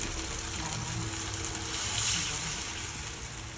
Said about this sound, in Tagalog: Lagyan natin ng isang latang tubig.